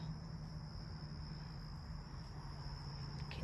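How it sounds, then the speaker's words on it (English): Crickets trill in a steady, continuous high chirr outdoors beside a garage and a house, faint and even over a low background hum, with no voices. "Can you hear the crickets?"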